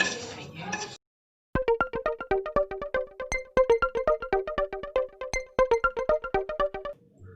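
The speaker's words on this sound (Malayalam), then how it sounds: "ലോ ഫ്ലെയിമിൽ വെച്ചിട്ട് ഇതുപോലെ നന്നായിട്ടൊന്ന് മിക്സ് ചെയ്ത് കൊടുക്കുക." A metal spoon scrapes and clinks against a pan while rava ladoo mixture is stirred on a low flame, a rapid run of ringing taps in steady rhythm after a brief voice at the start.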